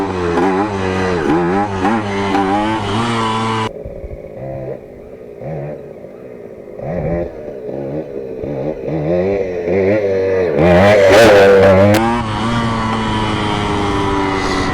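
A Kawasaki KE100 motorcycle in first gear revs hard during wheelie practice, its two-stroke engine buzzing loudly near the listener, dropping to a rough idle mid-way and then surging with quick throttle blips again.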